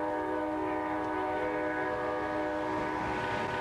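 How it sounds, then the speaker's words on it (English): A train whistle blows one long, steady, loud tone with rich layered pitches, held unbroken over a low rumbling background throughout. "Okay, engineer, whistle off."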